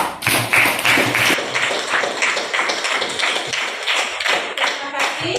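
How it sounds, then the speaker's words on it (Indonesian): A classroom of students applauding a classmate, a burst of quick, uneven hand claps, fairly loud at first and then thinning into scattered claps. "Kita berikan aplaus dulu untuk Azhar."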